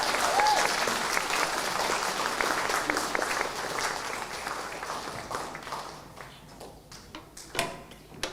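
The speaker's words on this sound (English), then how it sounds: "Can we give her a big round of applause" Audience applause at a learning disabilities and autism leaders' awards ceremony, steady dense clapping that gradually thins and fades, with a few last scattered claps near the end.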